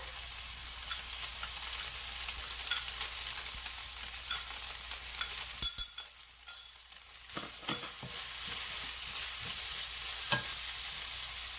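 Shallots and galangal sizzle in a hot pan with browned garlic, a steady crackling fry broken by a brief lull and scattered stirring scrapes and clicks, close and alone without talk.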